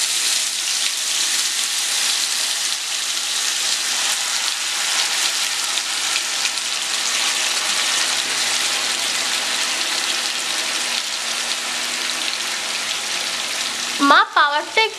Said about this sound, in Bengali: তেলটা গরম হয়ে গেছে, এবার মা চিকেনগুলো তেলের মধ্যে দিয়ে দিচ্ছে।